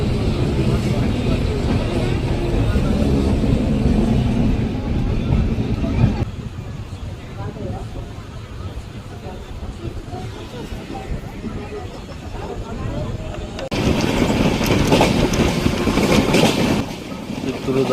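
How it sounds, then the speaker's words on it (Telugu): The Venkatadri Express picks up speed after leaving Chittoor, a loud steady rumble mixed with wind roar that drops quieter midway and then surges again. "అండ్ మన ట్రైన్ అయితే బయలుదేరిపోయింది చిత్తూరు నుంచి ప్లాట్ఫామ్ నెంబర్ 3."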